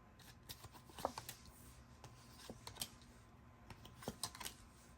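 Tarot cards being shuffled, a soft, uneven run of quiet riffling flicks and taps close by, with no talking.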